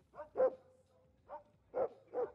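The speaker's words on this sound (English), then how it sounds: "Everyone needs to calm their dogs down." Dogs in the video game Drug Dealer Simulator bark in a short burst of four or five quick, moderately loud barks, with no one talking.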